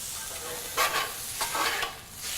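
Lamb sears undisturbed in a hot pan with a steady low sizzle, broken by a few brief louder bursts of spitting fat.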